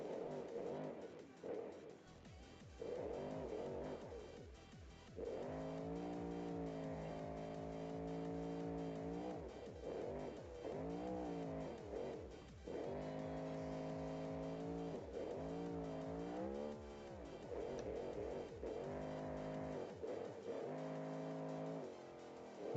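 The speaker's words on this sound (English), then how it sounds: "Engine sounds are pretty good." A truck engine in the BeamNG.drive driving game, fitted with an adjustable torque converter, revs repeatedly in rising and falling harmonic sweeps, loud and steady over about twenty seconds, with brief tire squeal and no talking.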